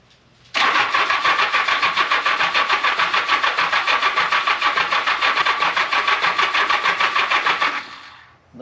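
The engine of a 1975 Honda Goldwing motorcycle that sat unused for 41 years cranks with the choke on, the starter churning loudly and rhythmically for about seven seconds without catching, then stopping.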